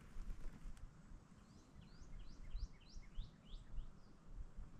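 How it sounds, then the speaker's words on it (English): Several small, high peeping notes from a tiny verdin, spaced out over a steady background of low rumbling noise. "Listen closely, you'll hear a little peep out here. This is a verdant."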